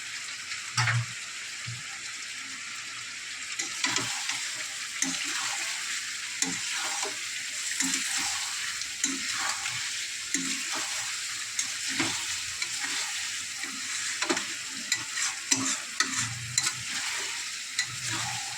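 Chicken kasha with fried spices being stirred in a pan, a steady close sizzle and frying hiss under repeated scraping stirring strokes, continuous throughout with no talking.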